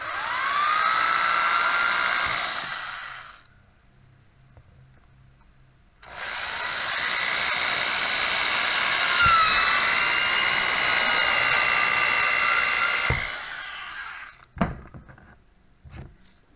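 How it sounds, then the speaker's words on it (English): A power drill whines loudly in two long bursts separated by a pause as it drills holes in plastic, then a few sharp clunks as it stops. "we're going to drill out these holes"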